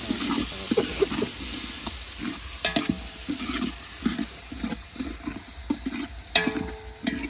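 Chopped tomatoes dropped into hot tempering oil and stirred, with a spoon scraping the pan in a regular rhythm over a soft sizzle, close and fairly quiet.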